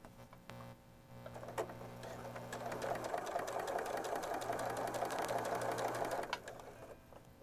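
A sewing machine stitches quilt block triangle pieces with a steady, fairly quiet mechanical whir that starts after a second, runs for about five seconds and then stops.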